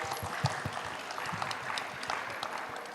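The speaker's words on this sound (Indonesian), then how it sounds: "kita beri tepuk tangan dulu buat Celia" Applause for Celia at a Gen Z talk show session, an audience clapping in a steady, moderately distant patter with a few sharper individual claps standing out.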